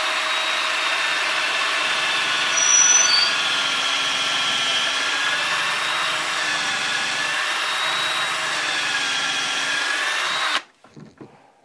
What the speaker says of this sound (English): Now I'm going to drill a hole straight through.